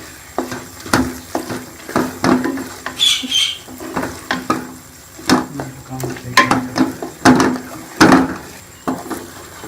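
Coconut pieces and nuts being stirred into rabri halwa in a pan, giving repeated scraping and clinking strokes in an uneven rhythm, close and moderately loud, with a faint background hum and no speech.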